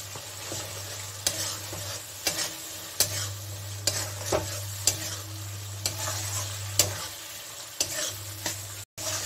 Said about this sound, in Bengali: এই যে মশলাটা করেছিলাম সেই মশলাটাকে আমি দিয়ে দিলাম, একসঙ্গে আবার একটু কষিয়ে নেব।